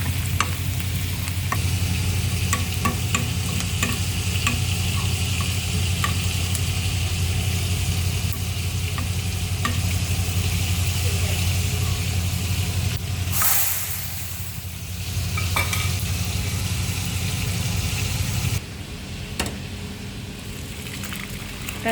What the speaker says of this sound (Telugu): రసం అయితే బాగా మరిగిపోయింది. పోపు వేసేసుకోవచ్చు అందులోకి.